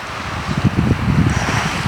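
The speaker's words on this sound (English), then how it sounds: "Doesn't matter how windy it is" Gusty wind blows across a palm-lined beach in steady rushing bursts, with low rumbling buffets striking close on the microphone throughout.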